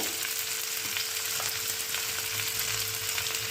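Potatoes and figs fry in a pan for a vegetarian fig curry, giving a dense, continuous close sizzle with faint stirring, alone without voices.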